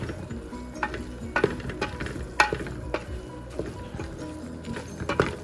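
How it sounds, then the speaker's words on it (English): A spoon stirs paneer biryani in a cooking pot, giving soft scraping and clinking strokes at an uneven pace over a quiet sizzle close by. "All right, going to keep stirring it."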